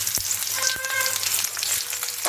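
Onions frying in oil in a kadai, a steady close sizzle with crackling pops throughout, no talk.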